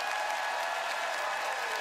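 Studio audience applause at a live CBC Manitoba radio noon show in Winnipeg, a steady dense wash of clapping held at even loudness throughout, with no talk over it.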